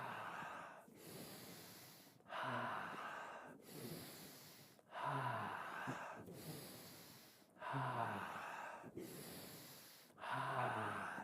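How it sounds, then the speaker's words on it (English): Slow, deep breaths drawn in and let out during a guided energy or tantra breathing practice, five or six long loud cycles of inhale and exhale in a steady rhythm, close up, with no talking. "Deep breath."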